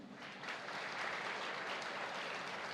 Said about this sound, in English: please clap for me, no?